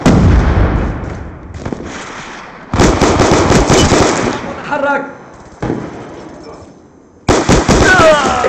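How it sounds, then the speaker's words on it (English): A frag grenade blows up in a Call of Duty–style shooter, a loud booming blast among bursts of gunfire and explosions. Game voice lines cut in between the sharp, abrupt loud sections. "Throwing frag!"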